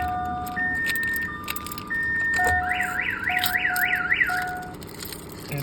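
A Viper alarm on a 2001 Chevrolet Silverado Z71 sounds loudly and alone, cycling through steady electronic tones and then a rapid warbling siren pattern.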